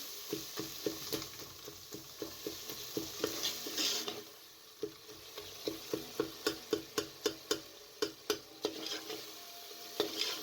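A spoon stirs spices in a pan while daal masala fries, giving a low sizzle beneath rapid, regular taps and scrapes against the pot, briefly pausing midway and then resuming as crisp, evenly spaced knocks.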